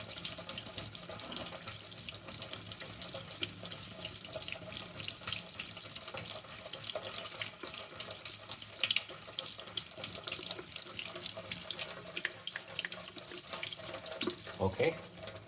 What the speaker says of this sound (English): you just need to make sure to wash them really good with hot water